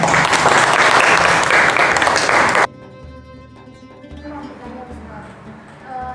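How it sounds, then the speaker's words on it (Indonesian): Applause from a group fills a classroom teaching session for about two and a half seconds, loud and dense, then cuts off abruptly to quiet room sound with faint speech. "Tepuk tangan untuk kita semuanya."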